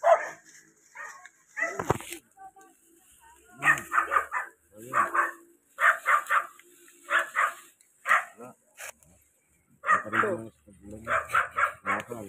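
A dog barks repeatedly in short bursts at night in a rural Philippine setting where people are digging up taro and cassava, the barks fairly close and mixed with people talking.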